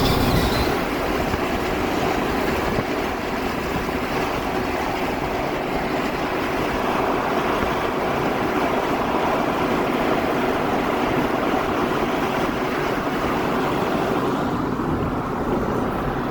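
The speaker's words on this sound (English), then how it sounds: "it's still beautiful, a beautiful waterfall." A waterfall with only a little water coming down, heard as a steady, loud broadband rush of falling and splashing water, unbroken for the whole stretch with no talking.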